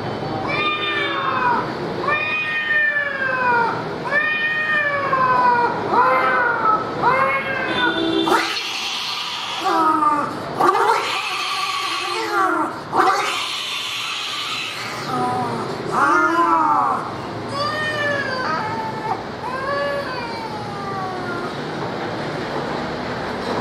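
A man vocally imitates two house cats fighting over milk: a long run of wavering meows and caterwauls, loud and close, with harsher yowling bursts in the middle.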